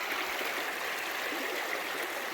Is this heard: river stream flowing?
yes